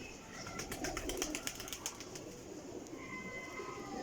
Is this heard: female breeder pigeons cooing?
yes